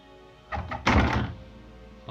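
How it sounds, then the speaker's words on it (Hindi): A door shut with a close, muffled thunk after a short scraping movement, and a voice briefly audible around it. "दरवाजा बंद कर दिया।"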